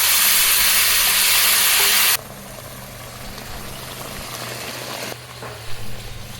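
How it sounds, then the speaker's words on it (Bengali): Local magur catfish fries in a pan with home-grown jackfruit curry, a loud, close hissing sizzle for two seconds that then drops to a softer, steady bubbling fry. "আমি মাছটাকে দিয়ে দিচ্ছি।"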